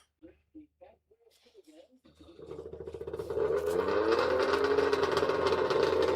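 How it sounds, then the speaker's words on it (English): A two-stroke Firebird race car engine at a salt-flat speed trial starts up after brief speech and swells into a loud, steady buzzing drone with rising pitch. "I hear that two-stroke Firebird fired up"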